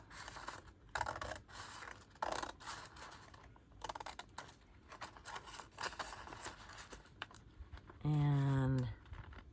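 Scissors snip through journal paper in a series of short, close, crisp cuts with quiet shuffling between them, followed by a brief, loud, tonal hum near the end.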